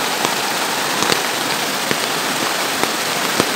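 Steady rain falls hard and close during a mountain walk, a dense constant hiss with scattered sharper drops and taps striking nearby surfaces.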